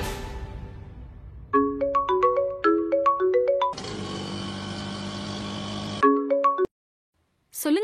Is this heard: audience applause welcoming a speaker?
no